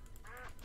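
A duck quacks once in the Minecraft video game as the player attacks it, a short, fairly faint nasal call over a steady background hum.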